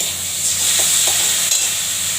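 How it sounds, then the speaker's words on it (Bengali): Ginger garlic paste fries in a pan, giving a loud, steady hiss of sizzling oil close up, with a few soft scrapes of stirring rising above the constant crackle. "এবার ভালো করে নাড়বো।"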